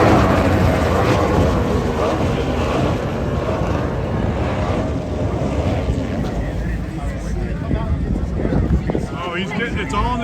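Offshore racing powerboats roar past on open water during a championship race off Key West, a dense, sustained engine drone mixed with heavy wind buffeting, loud and continuous, with voices faintly in the mix.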